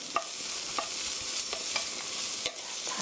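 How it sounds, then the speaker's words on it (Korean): Stir-fried vegetables for japchae being stirred and mixed in a pan, with soft sizzling under a series of sharp utensil scrapes and clicks at an irregular pace, close and fairly quiet, without any talk. "이제 채소에 밑간을 해서 다 볶아줬으면 고루 섞어주시고요"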